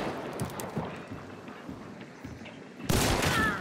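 Shotgun fire in the hunting shooter game Hunt: Showdown, one sudden loud blast near the end after quieter game ambience with footsteps and distant rumbles.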